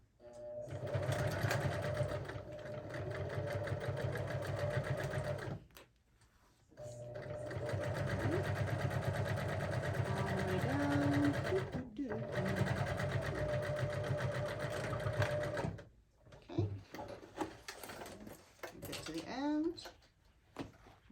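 A sewing machine stitches a bag at stitch length 3.0 in three long, steady runs separated by short pauses, with a person talking at times over the motor hum.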